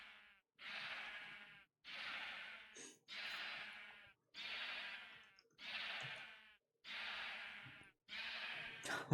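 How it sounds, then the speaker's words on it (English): Sheep in the Minecraft game bleat in a repeated series of drawn-out, wavering cries separated by short pauses, loud and close. "Sheep."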